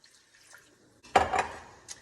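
Water is poured into a pan of homemade onion gravy while it is whisked, giving a short liquid splash and clatter that follows quiet, faint kitchen sounds.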